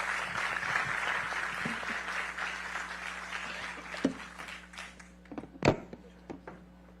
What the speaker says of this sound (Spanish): Un aplauso, por favor, a los participantes.